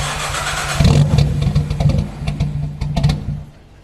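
An R33 Nissan Skyline engine on its stock exhaust idles, hunting, and revs with a raspy, rumbling note, rising in bursts then dropping off at the end; close and loud.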